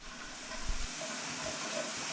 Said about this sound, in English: I'm about to turn the hot water on.